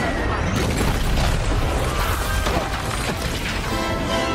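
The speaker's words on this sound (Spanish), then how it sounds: "un disparo rebelde cae en medio de todos y los derriba" A blaster shot explosion from the Star Wars film Rogue One bursts as a loud, dense crash with debris-like crackles and booms sustained for several seconds before cutting off abruptly.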